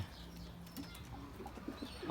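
A Mardin pigeon flies and coos outdoors, with soft wingbeats and low, intermittent cooing calls close by over a quiet background.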